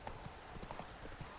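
Horse hooves clip-clop at a gallop in The Witcher 3, a steady repeating rhythm of close, moderately loud hoofbeats, with a faint whinny-like tone over the top.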